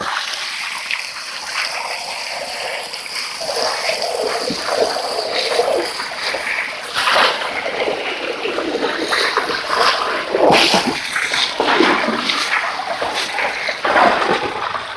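Water splashes irregularly and close by as freshly dug Indian sarsaparilla roots are washed in a village stream, a continuous sloshing without talk.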